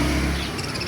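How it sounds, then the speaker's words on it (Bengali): A mature pair of cockatiels gives a brief call, a short close chirp over a steady background hum. "একজোড়া ম্যাচুইড কোকাটেল।"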